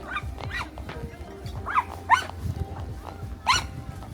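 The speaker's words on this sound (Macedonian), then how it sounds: "Ова се вика кучињата лаат," Dogs bark repeatedly in short, sharp bursts at moderate distance during a horseback ride through the Algarve countryside, with a few whimpering yips between the louder barks.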